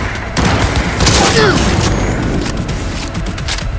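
Loud bursts of gunfire in Cyberpunk 2077 with dense rapid shots and booming impacts during a chaotic firefight, under shouted voices.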